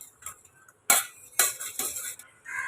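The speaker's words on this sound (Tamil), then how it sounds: "ஒரு புளிக்கரண்டி எதனாலும் இருந்தால் இப்படி லைட்டாக மசிச்சு விட்டுக்கோங்க" Cooked lentils (dal) being mashed for sambar with a metal ladle inside a pressure cooker: a few sharp metallic scrapes and clinks against the pot, near and fairly loud, separated by brief quiet gaps.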